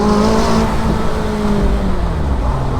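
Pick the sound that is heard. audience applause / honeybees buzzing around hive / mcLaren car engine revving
mcLaren car engine revving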